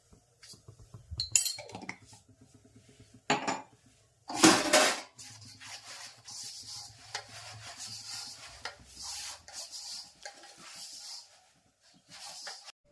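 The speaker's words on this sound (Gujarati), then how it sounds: "કઢી વઘારવાનું ચાલુ થઈ ગયું છે કામકાજ" Metal utensils clink, scrape and rub against a pot while kadhi is tempered with spices, curry leaves, cloves, star anise, chilli and ginger; sharp bursts of clatter and jingling come in irregular bursts, close by with no talking.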